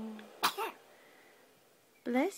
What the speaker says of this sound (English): We've been waiting to get one of those sneezes on film.